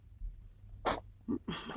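A cat gives a single short, sharp sneeze, followed by a couple of faint snuffles in a quiet room.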